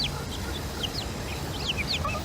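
Several small bantam hens cluck and chirp softly at close range, short rising and falling calls scattered over a low, steady background murmur.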